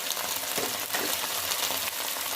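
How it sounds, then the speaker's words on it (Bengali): Ginger, garlic and cumin fry in hot oil, giving a steady, close, loud sizzle with sharp spattering crackles and pops throughout, and no voices. "গরম তেল চোখের মধ্যে ছুটে আসলো, কারণ এই আদা রসুন থেকে তেল ছুটে"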